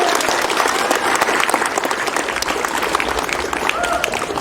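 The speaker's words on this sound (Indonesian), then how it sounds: "Dan tepuk tangan kepada yang bersangkutan." A crowd at a school Santri Day celebration applauds loudly and continuously, dense clapping from many hands filling the room with a faint murmur of voices beneath.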